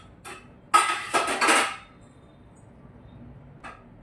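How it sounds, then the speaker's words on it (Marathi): A spoon stirs onion chutney mixed with crushed roasted peanuts, a brief cluster of metallic clinks and scrapes against the pot, close, then near silence with one faint tap. "याला अशा पद्धतीने हलवून घ्यायचं आहे, पूर्ण आपलं मिश्रण एकत्र येण्यासाठी अशा पद्धतीने हलवून घ्यायचं आहे"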